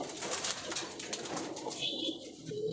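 Racing pigeons in a small, crowded loft let out soft, close coos amid fluttery rustling, quiet and continuous, with no voices present.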